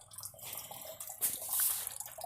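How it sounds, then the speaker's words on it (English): Water from the radiator of a 1967 Chevrolet Bel Air drains and splashes into a bucket, a short, uneven run of trickling and spattering that swells in the second half and sits close and fairly quiet. "we're catching some of the water in the bucket"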